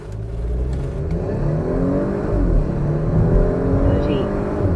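A Porsche SUV accelerates hard from a standstill on a closed course, its engine note rising steadily and loudly through the gears as heard from inside the cabin, with a voice speaking over it.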